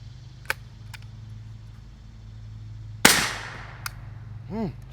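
A single suppressed gunshot from a 300 Blackout rifle fitted with a Rex Silentium MG7 suppressor, a sharp crack with a short decaying tail, outdoors with a few faint clicks around it.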